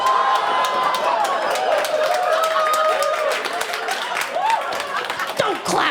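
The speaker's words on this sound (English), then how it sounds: "Don't clap for me" Audience at a stand-up comedy special breaks into loud, dense clapping mixed with cheering and crowd noise, sustained throughout with a voice rising over the din.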